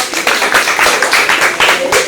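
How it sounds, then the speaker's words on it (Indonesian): A class claps hands together in a classroom during a lesson on online business and marketing, a dense run of quick overlapping claps lasting about two seconds at steady loudness, close by and with no talk over it. "Oke, tepuk tangan dong."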